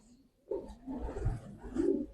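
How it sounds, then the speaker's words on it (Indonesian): A selap-marked pigeon coos close by, a low throaty rolling call that starts abruptly and swells in two or three pulses, with no talking. "Nah, ini yang namanya burung selap ya."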